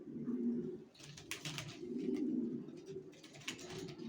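Racing pigeons of the Johnson line coo in soft, repeated throaty calls, close and quiet, with faint rustling and chirps between them.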